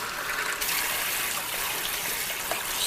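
Boiled okra being swished around by hand in a sinkful of cold, not iced, water, giving a steady close sloshing and trickling wash with no talk.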